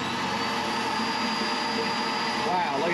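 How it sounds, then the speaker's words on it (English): A vacuum cleaner runs off a Honda EU3200i generator, a loud, steady motor whine and roar filling the whole stretch without pause. "Now that that's going, let's add in the vacuum."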